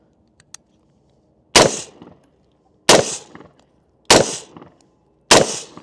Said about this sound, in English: And that's how you shoot a rifle.